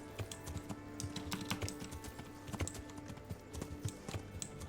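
Horse hooves clip-clopping in the medieval role-playing game Kingdom Come: Deliverance, a quick irregular run of close hoofbeats, fairly quiet, with no talk over them.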